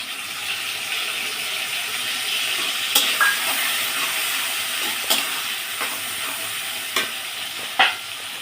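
Radhuni, black cumin and green chillies spit and crackle in hot oil, a steady close sizzle with a few sharp pops and spatters, for a fish curry with gathi kochu.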